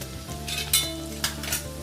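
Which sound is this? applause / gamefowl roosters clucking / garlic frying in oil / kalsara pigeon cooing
garlic frying in oil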